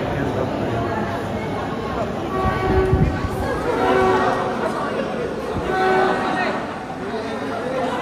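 A moving train rumbles steadily, with people chattering nearby over the rolling noise.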